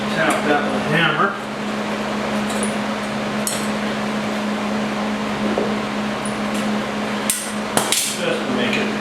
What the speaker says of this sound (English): Tap that with a hammer.